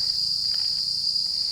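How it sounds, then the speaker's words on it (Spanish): Cicadas on an abandoned island resort path drone in a constant, loud, high-pitched buzz that never lets up, with no voices over it. "el sonido de las cigarras era ensordecedor"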